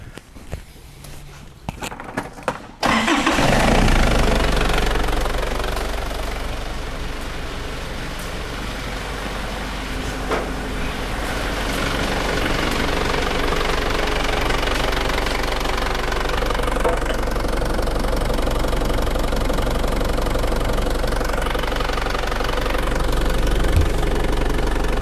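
Holden Isuzu Rodeo engine running with its mass airflow sensor unplugged, a steady loud idle with a knocking undertone that starts abruptly after a few seconds of quiet handling noise and holds throughout.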